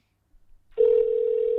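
A steady telephone dial tone starts abruptly after a short stretch of faint low noise and holds on, loud and close, with no talk over it.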